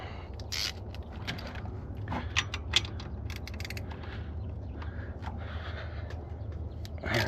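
A wrench working a 13 mm bolt on a 7.3 Powerstroke engine: scattered metallic clicks and ratcheting creaks, close and fairly quiet over low background rumble, with no speech.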